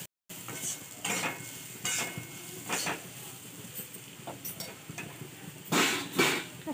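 A spoon stirs cooked dal mixture in a pan for kachori filling, giving soft, repeated scraping strokes at an uneven rhythm, fairly quiet and close, with a light sizzle between strokes.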